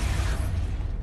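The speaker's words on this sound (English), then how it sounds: "Expulso!" A spell blast in the Hogwarts Legacy video game, a dense low rumbling burst with crackling hiss sustained over a second, loud and close with no pause.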